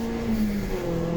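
Nissan Sentra race car engine held at full throttle through a fast bend on the Taupo circuit, a steady loud droning roar with a sustained tone that drifts slightly in pitch, close up and continuous with no talk.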